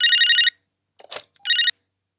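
A telephone rings in a Tamil TV comedy scene, two bursts of a bright trilling electronic bell separated by a short gap that holds a brief rustle, then silence.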